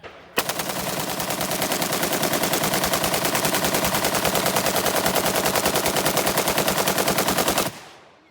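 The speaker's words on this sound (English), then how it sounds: "Got to shoot a G36." Sustained full-auto fire from a G36 rifle on an outdoor range, one long continuous burst of evenly spaced rapid shots lasting about seven seconds, loud and close, with no talking.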